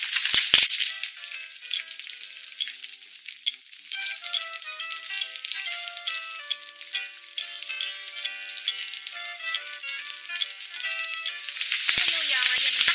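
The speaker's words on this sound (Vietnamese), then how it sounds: "Mình chiên cho nuôi phồng lên giòn nha các bạn." Rice-flour macaroni frying in hot oil, a steady close sizzle with crackling pops throughout and a louder burst of spattering near the end, with no talking.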